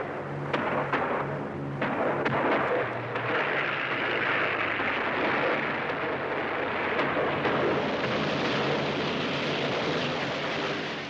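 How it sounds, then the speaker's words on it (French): Anti-aircraft flak shells from 88 mm guns explode around aircraft: dull booming blasts and rumbling detonations roll together into a continuous, heavy roar, with a few sharper cracks early on. "la Flak, la DCA, avec ses canons de 88, dont on voit très vite éclater les obus autour des avions"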